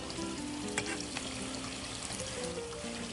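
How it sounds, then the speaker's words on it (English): Panko crumbs sizzle in hot grapeseed oil in a Dutch oven, a steady, dense crackle of frying that holds at an even level throughout with a few sharper pops. "If it immediately sizzles and floats to the top, you're pretty close on temperature."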